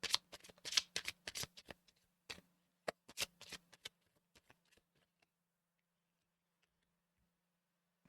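A deck of tarot cards being shuffled by hand close up, a quick series of crisp riffling and slapping bursts that thin out and fade to near silence over a faint steady hum.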